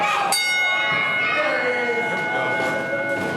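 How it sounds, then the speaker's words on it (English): A bell rings once to start a wrestling match at a tie-up show, a sharp clang that lingers over a loud, busy crowd and background voices throughout. "Ring the bell."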